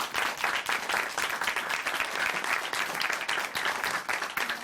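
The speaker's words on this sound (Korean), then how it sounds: "박수로 맞이해주세요." An audience at a church testimony broadcast claps continuously to welcome a speaker. The dense applause holds steady and close throughout.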